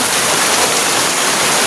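Heavy rain pours down during an outdoor outing, a loud, steady, dense hiss that fills the whole clip with no break.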